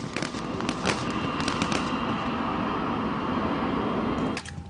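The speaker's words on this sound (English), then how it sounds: "A GIGN man is blasted out of the plane by gunshots." Rapid cracking bangs in irregular bursts over a dense roar of background noise, like sustained gunfire heard from a distance, during a GIGN assault on a hijacked plane.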